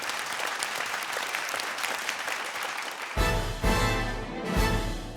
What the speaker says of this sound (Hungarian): És egy nagy tapsot a zenekarnak.